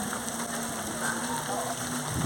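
Steady rain hitting surfaces at the start of the Auckland Marathon, a dense, even hiss that stays constant and fairly close with no voices over it.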